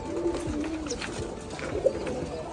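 Pigeons at a pigeon farm giving soft, repeated low coos, with a few gentle calls close to the microphone against a quiet background.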